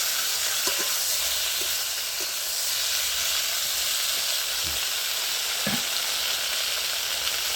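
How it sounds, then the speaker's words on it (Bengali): Boiled flat beans are tipped into hot white cooking oil and crackle in a dense, continuous sizzle, with occasional soft knocks of the utensil against the pan. "তো সেদ্ধ করে রাখা আমি শিমগুলো দিয়ে দিচ্ছি।"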